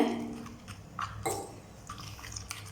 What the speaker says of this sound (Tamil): கட்டி எதுவும் இல்லாமல் நல்லா மிக்ஸ் பண்ணிக்கோங்க